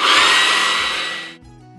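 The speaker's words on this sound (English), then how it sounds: "Then I'm going to go back in with my hair dryer and just dry it with air and put it on high heat." A hair dryer blowing on high heat over paper for mixed media art, a steady loud broadband whoosh that cuts off abruptly near the end, leaving a quiet hum.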